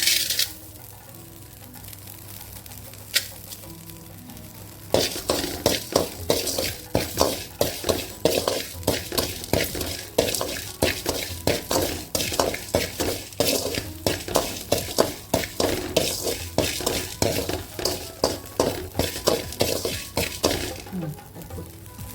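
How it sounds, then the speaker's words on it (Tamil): Dal and rock salt dry roasting in a pan while being stirred. After a quiet start, a steady run of close, rapid scraping and rattling strokes continues to the end, with no voices. "கல் உப்பையும் போட்டு வறுத்துக்கலாம்."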